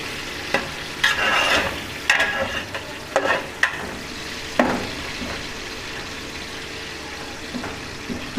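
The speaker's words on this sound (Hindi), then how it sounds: "और इनको अब मैं थोड़ा सा ब्राउन करूँगा" Sliced onions fry and sizzle in a pot of beef yakhni pulao, with repeated scraping stir strokes at irregular intervals over a steady sizzle, close and moderately loud.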